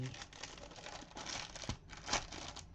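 Packaging crinkles and rustles in uneven bursts during a floss craft session, close and moderately soft, with brief sharper crackles near the end and no talking.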